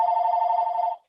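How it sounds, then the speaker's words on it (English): A telephone rings in the background of a meeting, one sustained electronic warble with a trilling pulse that runs about a second and then cuts off, heard alone without talk. "Sorry for the phone in the background."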